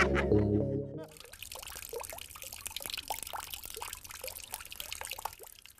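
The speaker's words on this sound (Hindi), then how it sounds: "आपकी हाँ हाँ की वजह से पानी भी रुक रुक कर आने लगा है।" Water runs from a household tap and splashes into a container, starting after a loud tonal burst. The pouring is irregular, trickling and dribbling in uneven spurts, and stays fairly quiet throughout.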